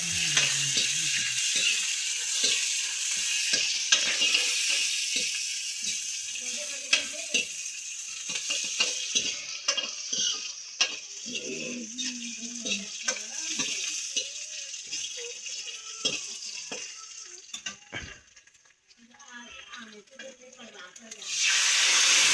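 Hot oil sizzles and crackles steadily as spices are tempered for kadhi, with utensil stirring and clinking throughout and a brief lull near the end.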